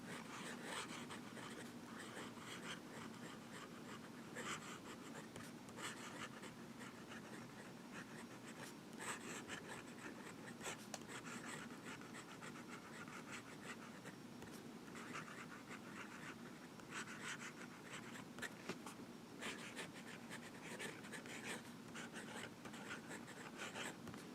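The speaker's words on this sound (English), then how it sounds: "Now we'll do some writing." A Visconti Mirage fountain pen with a fine nib scratches faintly across paper in a quiet room, soft continuous strokes with small ticks and pauses, no voices.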